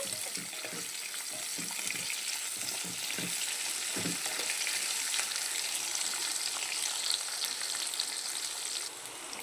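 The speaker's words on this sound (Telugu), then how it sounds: "ఇలా పొడవుగా కట్ చేసేసుకొని చక్కగా ఫ్రై చేసేసుకోవాలి" Long-sliced onions and curry leaves fry in hot oil with a steady, close sizzle. Occasional stirring thumps come early on, and no one speaks.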